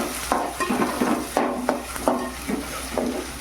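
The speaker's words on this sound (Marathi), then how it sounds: "गॅस मी फास्ट ठेवली आहे कांदा चांगला आपल्याला भाजून घ्यायचं आहे" Onions frying on high heat in a pan after whole spices, for a spicy mutton rassa, with a loud busy sizzle and repeated scraping stirs in an uneven rhythm, close by and without voices.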